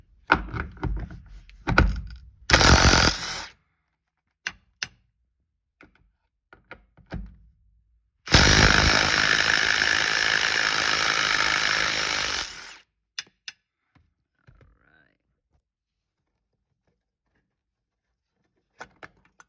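Removing two 12mm bolts from the rear suspension of an EK Honda Civic: scattered metallic clanks and taps, then a loud, steady mechanical whirring burst of about four seconds, followed by a few sparse clicks, with no talking.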